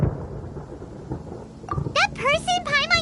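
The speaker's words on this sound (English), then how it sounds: "Paimon hears thunder!" Thunder in the video game Genshin Impact rumbles low and dull in the background, followed by a burst of chirpy, sweeping vocal-like game sounds near the end.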